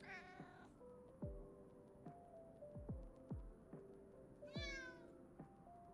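A cat being babysat meows repeatedly, a series of drawn-out, wavering mews with brief gaps between them, close and clear over a faint steady hum.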